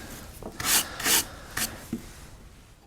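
A skew or fishtail chisel pares across a wood blossom carving, giving a few short, quiet scraping rubs in an uneven rhythm, close and with no talk.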